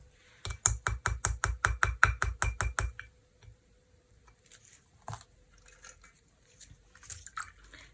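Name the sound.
teaspoon of dishwashing liquid poured into ink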